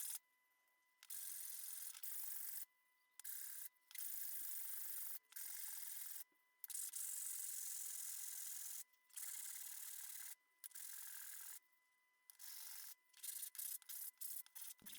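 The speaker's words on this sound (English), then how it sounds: "Now sanding the tabs off of the end" Hand sanding of protruding finger-joint tabs on the end of a walnut box, a series of close, dry rasping strokes of varying length separated by short pauses, speeding into quick short rubs at the end.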